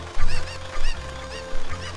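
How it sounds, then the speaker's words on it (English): Cuccos squawk in The Legend of Zelda: Ocarina of Time Master Quest, three loud bursts of harsh honking clucks following one another in a steady rhythm over a constant game background hum. "The chickens can't kill me!"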